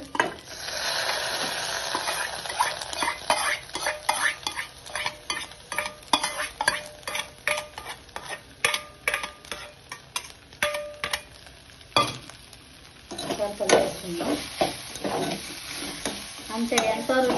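Fenugreek leaves hit hot oil and tempering in a pan for a Telangana dish, sizzling steadily while a spoon stirs and scrapes in uneven bursts, with a short lull partway through.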